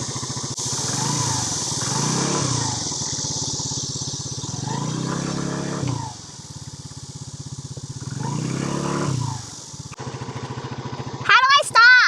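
A scooter engine revs in bursts as the rider works the accelerator, rising and falling whines repeated several times close by, with people talking over it.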